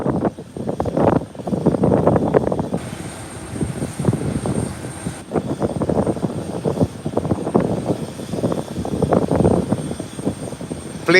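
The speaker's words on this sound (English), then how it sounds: "you're crying for the departure of the 747" A Boeing 747 airliner departs Howard Hamilton International Airport with a loud, rumbling engine roar. The roar swells and dips unevenly, with wind buffeting the microphone, and no one speaks.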